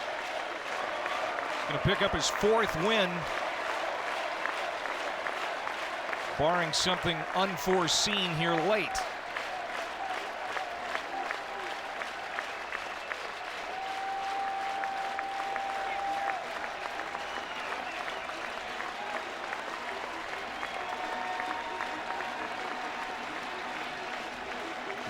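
A college baseball crowd at Tennessee gives a pitcher an ovation, sustained applause and cheering rolling on in the background while a commentator talks over much of it.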